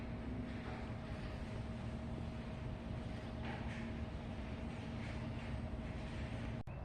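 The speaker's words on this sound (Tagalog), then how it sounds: "And the pool cleaner is running." A pool cleaner runs in a backyard pool as a steady low hum with a faint whine, mixed with watery swishing and light wind noise, continuous and moderately close throughout.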